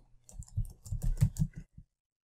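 Fingers typing on a computer keyboard in a quick burst of close, crisp clicks, about a dozen keystrokes in a row and then a final tap before silence.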